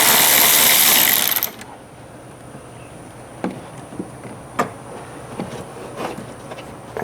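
Several short sharp clicks from a ratchet wrench working a 10 mm nut on a truck's negative battery cable terminal, spaced irregularly and fairly close after a brief loud burst at the start.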